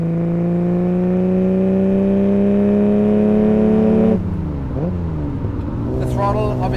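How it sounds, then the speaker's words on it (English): A Ferrari 250 GT Berlinetta Lusso's V12 revs smoothly upward, its harmonic pitch climbing steadily for about four seconds before an upshift drops the note and it climbs again, loud and close, with a voice speaking briefly near the end. "It's a V12, so it sounds very good."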